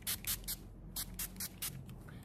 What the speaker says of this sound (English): This is the setting spray here.